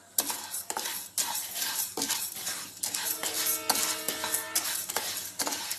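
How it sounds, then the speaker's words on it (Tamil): Chana dal being dry-roasted in a pan for homemade sambar powder, the hard lentils rattling and scraping under a spoon in quick, uneven strokes, close and clattery. "இதையும் வாசம் வர்ற அளவுக்கு வறுக்கணும்."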